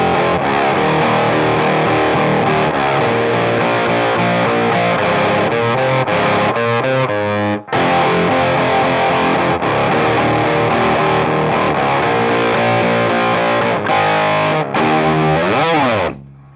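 Heavily distorted electric guitar plays the chorus chords of a song, loud and sustained with dense ringing harmonics, one brief cut near the middle and a sliding note near the end.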